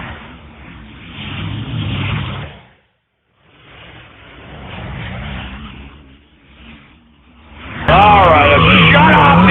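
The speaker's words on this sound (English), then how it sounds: "All right, shut off the engine." Car engine running and revving hard, a loud, rough broadband roar that swells and dips, cuts out briefly, then surges louder at the end, with voices talking over it.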